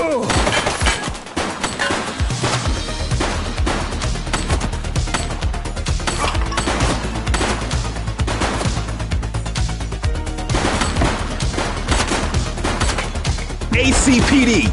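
Sustained gunfire from a police shootout in the video game The Precinct, loud bursts of shots over a dense, busy game soundtrack with continuous action noise throughout.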